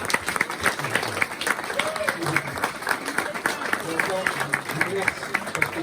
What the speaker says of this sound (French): S'il vous plaît, applaudissez-vous.